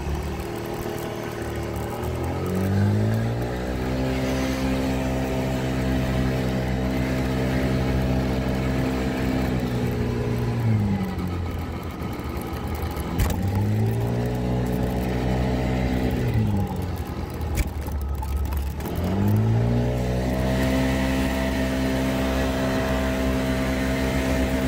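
A Mondial Wing 50i 50cc motorcycle pulls away from a standstill three times in a row, its small engine revving up through rising pitch and then dropping back, loud and close, with no talk over it.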